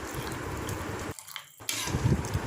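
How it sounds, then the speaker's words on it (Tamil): Leftover water poured into a pot of goat bone soup makes a steady splashing pour that runs throughout, breaks off briefly, then resumes more strongly. "இப்போ நான் மீதி தண்ணியை இதில் ஊற்றிக்கிட்டேன்"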